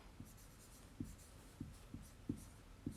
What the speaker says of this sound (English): I'll write it out for you here